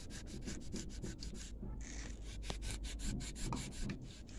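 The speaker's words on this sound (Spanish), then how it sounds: "vas a agarrar un poquito de mancha y then vas a estirarlo de un lado a otro lado" Wood stain being rubbed back and forth across a wooden surface with a cloth or brush, producing steady rhythmic scrubbing strokes, close and fairly quiet, with no talking.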